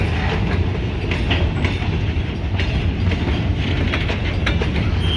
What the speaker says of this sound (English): This train is destined to go all the way to Cribbets.